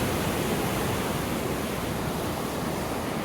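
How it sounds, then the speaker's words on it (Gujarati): Constant broadband roar of rushing water, loud and unbroken, like a waterfall close by; no voices. "આમ તો પાણીનો ધોધ જાય છે અવાજ સરખો નહીં આવે"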